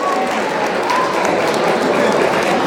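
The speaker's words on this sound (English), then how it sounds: "Round of applause for the gentleman who's been celebrating." Applause from a gala auction audience at the Jamaica 60 Diamond Jubilee celebration greets a winning $3,000 bid. The clapping is a dense, steady wash that stays at an even level for a few seconds.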